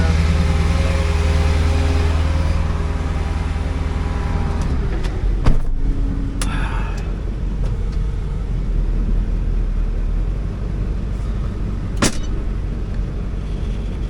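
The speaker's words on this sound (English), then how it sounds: "See, the tires look like they're dragging." A Honda car rolls along with a stuck parking brake, the tires dragging under a loud, continuous low rumble of engine and road noise, with a couple of sharp clunks along the way.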